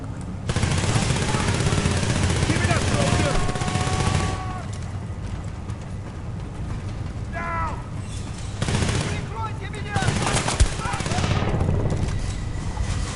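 Gunfire in the Battlefield: Bad Company 2 video game: sustained loud bursts of automatic fire and shots, continuous through most of the stretch with a brief lull, under a backdrop of battle noise.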